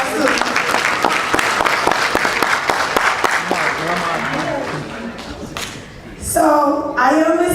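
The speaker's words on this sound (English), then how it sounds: "So give yourself a round of applause too." Families at the West Town Academy graduation ceremony applaud: a crowd's brisk clapping fills the room for several seconds and dies away, then a person starts speaking into a microphone.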